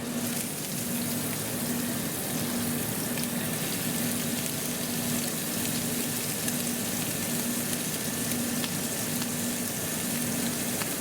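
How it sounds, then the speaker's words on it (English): Food searing in a hot pan in a chef competition kitchen, a steady dense sizzle and hiss running continuously, close and even with no talk. "Now we're going to put them in the pan. As you can see, it's nice and hot. They're going to get that nice sear."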